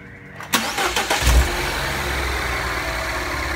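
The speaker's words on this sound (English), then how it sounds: "Now we are going to start the car" A MINI Cooper S JCW with a freshly installed JCW turbocharger upgrade cranks briefly and fires up close by, the engine catching with a short rising flare before settling into a steady idle.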